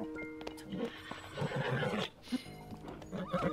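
A horse in Zelda: Tears of the Kingdom whinnies loudly, with clip-clop hooves and other game sounds around it, in a short busy burst.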